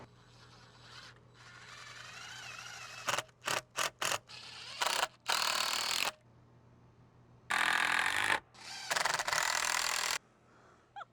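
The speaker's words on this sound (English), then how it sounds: "I'm gonna screw it in." A screw is driven into wood in a string of short, loud bursts, some quick and clipped and others longer and grinding, separated by near silence and a low steady hum.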